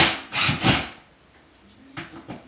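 A power drill drives a screw into drywall in two quick, loud whirring bursts close up, followed by a pause and a couple of shorter taps.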